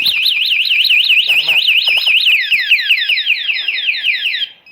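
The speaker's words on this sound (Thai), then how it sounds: "ได้ว่ามีใครมาขยับขยับรถ หรือจะขโมยรถ มันก็จะลองสี่วิเป็นสเต็ปแรก" A TEXNO anti-theft alarm fitted to a Honda CBR-650-F motorcycle sounds loud and close, a rapid warbling siren that shifts into a faster sweeping pattern before cutting off.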